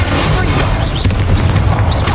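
A Bombarda spell explodes in the video game Hogwarts Legacy, a loud, sustained booming blast with rumbling low-end crashes that fill the whole moment.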